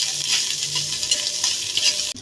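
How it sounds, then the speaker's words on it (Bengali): Chopped garlic fries in a pan while being stirred, giving a steady close hiss and sizzle with faint scraping throughout and a brief break near the end. "এখন একটু লাল লাল করে ভেজে নিব"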